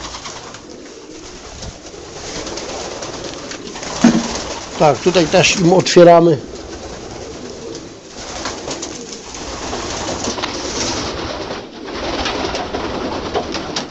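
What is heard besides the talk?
pigeons cooing in loft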